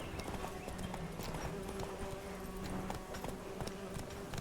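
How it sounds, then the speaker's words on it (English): Rhythmic clip-clop of the horse Roach's hooves galloping steadily in The Witcher 3, with game music and ambience underneath; the hoofbeats are close and continuous throughout. "Run, Roach."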